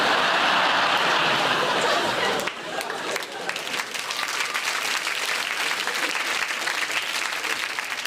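A comedy audience bursts into loud, dense clapping that fades slightly after a couple of seconds and carries on at a steady level.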